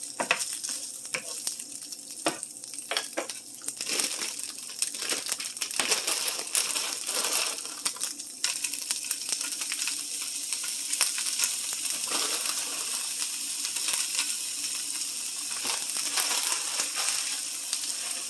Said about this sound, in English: starting to sizzle nicely.